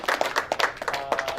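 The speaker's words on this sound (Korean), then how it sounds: "박수로 맞아주시기 바랍니다" Brief burst of audience clapping at a Korean community gathering as a guest stands to be recognized, a few seconds of scattered hand claps with an irregular rhythm, moderately loud and close.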